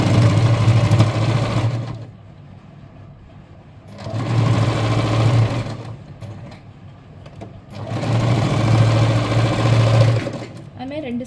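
Sewing machine stitching a chudidhar top in three bursts of steady whirring, each about two seconds long, separated by short pauses, close and loud.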